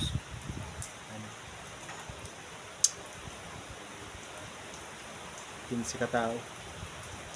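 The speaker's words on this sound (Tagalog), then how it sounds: "Dito lang muna kami pag hupa ng ulan." Steady rain hisses softly over a construction site where concrete was poured, a faint continuous patter with scattered drips, and quiet voices of workers speak briefly in the background.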